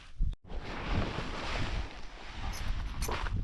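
Wind blows in a low, rumbling rush, buffeting loudly against the microphone for a few seconds.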